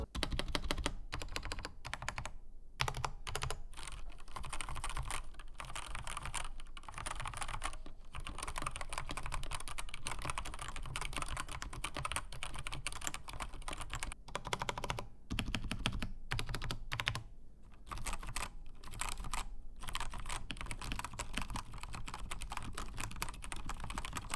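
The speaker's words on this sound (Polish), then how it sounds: "Wy pewnie jesteście ciekawi jak ta klawiatura brzmi, więc w tym momencie możecie jej posłuchać" A Genesis Thor 230 TKL budget mechanical keyboard is typed on continuously in a quiet room. The key clacks come in fast, uneven bursts with brief pauses, close and moderately loud, and there is no talking.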